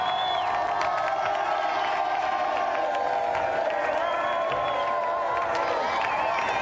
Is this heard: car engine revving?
no